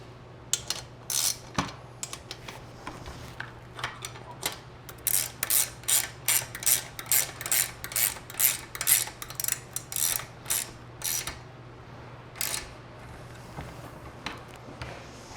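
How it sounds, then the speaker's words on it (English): A ratchet tightens the bolts on bicycle training wheels, producing close, sharp bursts of rapid clicking that repeat in quick, uneven strokes against a quiet, faintly humming background. "we will get our training wheels fully tightened. On both sides."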